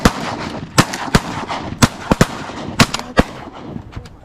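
Shotguns fire at teal ducks during a duck hunt on a private farm, a rapid volley of about ten sharp, loud blasts in quick succession from several hunters.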